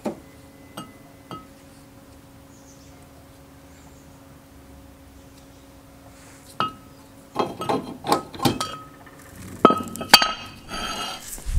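A manual impact hammer strikes the bolts on a Toyota Corolla during axle work: a few faint clicks in a quiet start, then a close, loud burst of sharp metallic blows and clinks in irregular rhythm. No one speaks.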